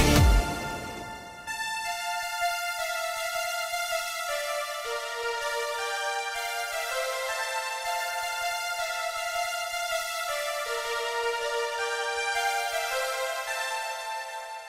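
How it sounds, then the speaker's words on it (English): A synth counter melody from a Fairlight Reason sound bank blends string and bell timbres, playing sustained, bright harmonic notes for a Eurobeat chorus. It is steady and full throughout, with a plucked attack at the start and no talking. "a sound which seems like a mixture of strings and a bell"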